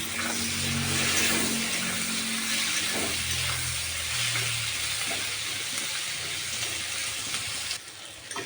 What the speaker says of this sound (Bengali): আর যে দুটো রসুন আমি ছুলে রেখেছিলাম সেগুলো এখানে দিয়ে দিচ্ছি আর দিয়ে দেবো কয়েকটা কাঁচা লঙ্কা দিয়ে আমি ভালো করে একটু ভেজে নেবো